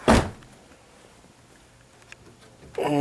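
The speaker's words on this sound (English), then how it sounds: "Door opens not a problem." Car door of a Saturn Sky roadster, a single sharp close-range thunk at the start followed by quiet, then a brief mechanical chirp or chime near the end.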